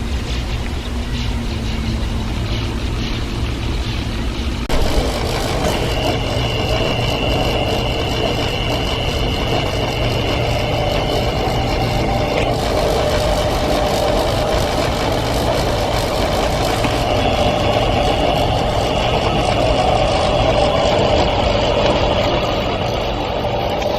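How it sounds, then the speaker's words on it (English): Overhead power lines give off a strange, continuous mechanical drone with a steady hum and a wavering whine that shifts partway through, loud and constant throughout with no talking. "Oh, weird sound. It's from the power lines."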